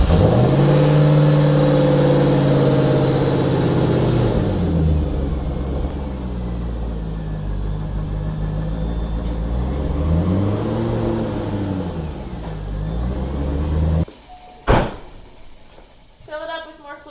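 A C5 Corvette engine idles and revs steadily with a freshly installed transmission, its drone rising and falling in waves before cutting off abruptly near the end, followed by a sharp clank.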